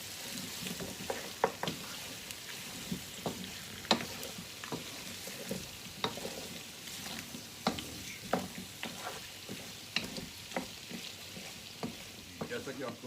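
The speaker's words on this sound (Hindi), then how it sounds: "थोड़ा सा इन्हें भून रहा हूँ 1 मिनट के लिए" Potatoes frying and being stirred into a mutton curry (aloo gosht) in a pan, a steady low sizzle broken by repeated sharp scraping clicks of a spoon about every second, close and moderately quiet with no talking.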